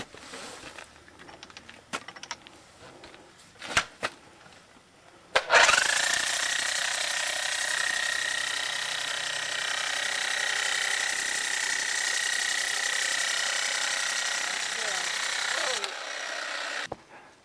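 A hammer drill drives a copper ground rod through a driving coupler at a repeater antenna tower, a loud, steady rattling hammering that starts abruptly after a few clicks and runs for about ten seconds before stopping.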